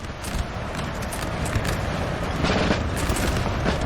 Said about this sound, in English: They're getting shot in the flank.